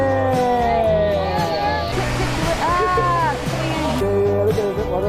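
Waterfall at Tengkil gives a loud, constant broadband rush, while several people talk and shout excitedly over it close by.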